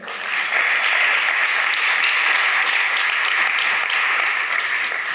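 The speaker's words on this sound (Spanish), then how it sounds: "dar un aplauso al Rey" A church congregation claps steadily and loudly together for several seconds, a full, even wash of applause with no break.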